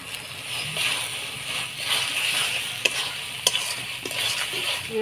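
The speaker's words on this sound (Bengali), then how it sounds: "ভালো করে নাড়াচাড়া করে নিব।" Coconut prawns with turmeric and salt being stirred as they fry, a steady sizzle with occasional spoon clinks against the pan, close and with no talking.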